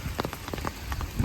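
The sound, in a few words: rain falling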